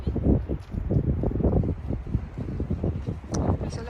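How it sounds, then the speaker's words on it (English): Gusty wind buffets a microphone outdoors near a river in Seinäjoki after morning rain: a close, fairly loud low roar with irregular surges and rumbling bursts, no voices. "it's quite windy right now."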